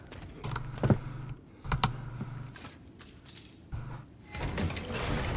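Computer keyboard typing heard during God of War Ragnarök gameplay, irregular bursts of key clicks and clatter, fairly close, separated by short gaps with low game sound underneath.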